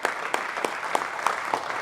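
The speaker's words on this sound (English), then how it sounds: "Big round of applause." A stage audience applauds in a steady burst of clapping with a few sharper individual claps standing out, filling the whole short moment at moderate volume.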